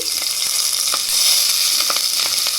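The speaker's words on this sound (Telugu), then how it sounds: "నెయ్యి వేడెక్కింది అందులో కొద్దిగా జీలకర్ర ఆవాలు పచ్చిమిర్చి" Cumin, mustard seeds and green chillies sizzle loudly and continuously in hot ghee, a dense crackling hiss close by with small pops scattered throughout.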